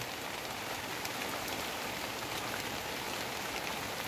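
Steady, dense rain pours down with a constant hiss and patter on surfaces, unbroken throughout and fairly close.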